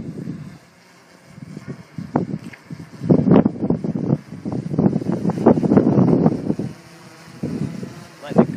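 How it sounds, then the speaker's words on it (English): Strong gusty wind buffets the microphone outdoors during a windy test flight of a DJI Phantom 2 and a Blade 350QX drone, swelling in loud rumbling bursts and easing off, with no clear talk. "Maybe that 25 mile per hour wind."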